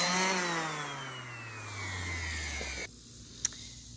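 A power sander used on a barn wood tabletop whines loudly, its pitch slowly falling as it winds down, then stops abruptly, followed by quiet and a single sharp click.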